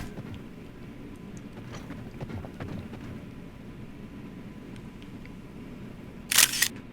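In the video game Zelda: Tears of the Kingdom, a camera shutter snaps once for a selfie, a short sharp click near the end over low ambient game sound.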